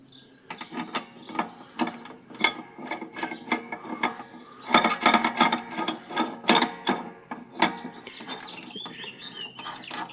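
A ratchet wrench tightens the bottom 18mm bolt on a 3-way hitch plate for a lawn mower or ATV. Close, rhythmic bursts of ratcheting clicks repeat throughout, with a short pause midway.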